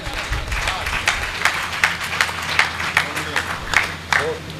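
Audience clapping at a patriotic poetry recital, steady and moderately loud for several seconds, like a crowded hall applauding as a poet takes the stage.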